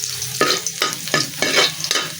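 Ingredients for ginataang kalabasa sautéing in a hot pan until browned, a steady close sizzle broken by repeated scraping stirs every half second or so, with no talking.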